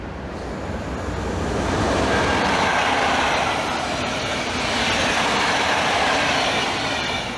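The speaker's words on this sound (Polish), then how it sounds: "dlatego udam się pociągiem" A passenger train runs along in winter weather, giving a continuous loud rumble and rushing roar with faint rhythmic rail clatter throughout.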